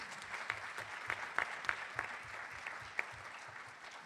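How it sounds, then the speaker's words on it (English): Applause at a high school board of education meeting honoring long-serving secretaries, a modest round of clapping from a small room with a few sharper individual claps standing out, fairly faint and even throughout. "How about a round of applause for those secretaries?"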